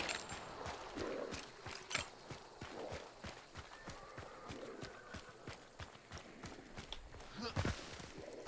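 Hooves clip-clop steadily at a walking pace in a video game set in a mine, with brief neighing and faint talk mixed in.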